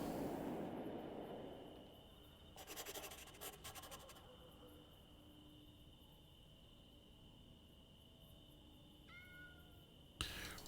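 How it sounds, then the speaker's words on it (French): Cats meow in a video game set in Rome in 1508, a faint high call near the end rising over a steady game ambience with a brief scratchy burst earlier. "Il y a des chats, meilleur jeu."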